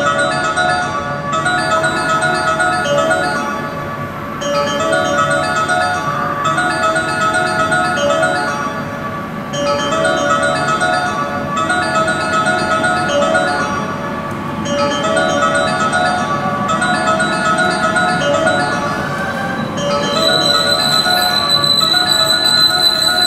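Electronic chime melody played as a departure signal on the underground platform at Osaka Station, a bright bell-like tune repeating in looped phrases, loud and steady over platform hum, with a higher tone joining near the end.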